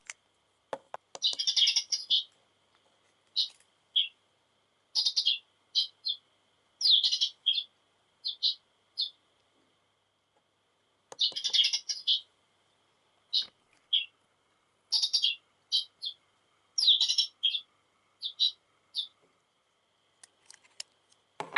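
A recorded sparrow call plays from a small capsule toy from a vending machine. Bright, clipped chirps come in repeated bursts separated by silent gaps, the pattern starting over about halfway through.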